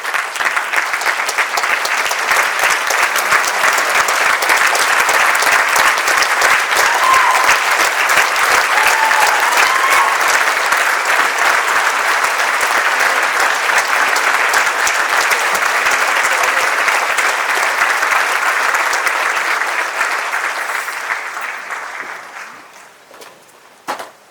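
A banquet audience gives sustained, loud applause for award winners, a dense wash of clapping that holds steady for about twenty seconds before tapering off at the end.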